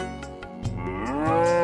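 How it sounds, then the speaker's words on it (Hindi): A cow moos loudly at night outside a house, one long, drawn-out, rising call close by that swells toward the end, with no voices. "एक गाय जोर जोर से चिल्ला रही थी"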